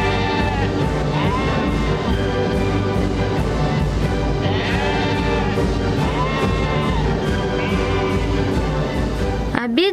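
A flock of sheep bleats loudly and continuously, several overlapping wavering cries rising and falling close by, with a steady crowd-like rumble beneath and an abrupt sweep at the very end.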